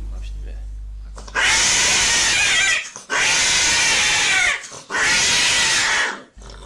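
A tomcat and a female cat in a confrontation, making three long, loud, harsh yowling or screeching bursts at close range, separated by brief pauses.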